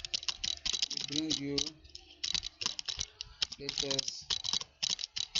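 Rapid computer keyboard typing clatters in close, steady bursts while a voice speaks over it at times, setting up a WordPress website page.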